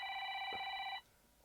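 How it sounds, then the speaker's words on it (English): A landline telephone rings in a radio studio with a bright electronic trill that sounds steadily for about a second and then cuts off, leaving quiet room tone. "this phone rings sometimes"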